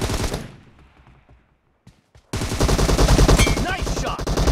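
Rapid automatic gunfire in the mobile shooter game BGMI, a loud dense burst, a brief quiet gap with a couple of single shots, then sustained fire again.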